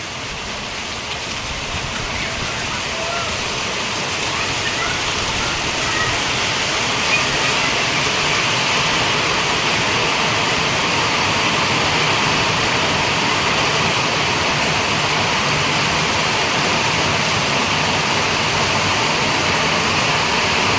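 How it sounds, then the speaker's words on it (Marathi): Dense, constant roar of heavy monsoon rain pours down without pause in a Konkan village, a loud wash of noise with no breaks. "मुसळधार पाऊस झाला कोकणामध्ये"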